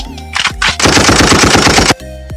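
Rapid bursts of gunfire from a gun sound effect, several short shots followed by a sustained loud automatic volley lasting about a second, then cutting off abruptly.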